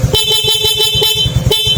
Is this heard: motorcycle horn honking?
yes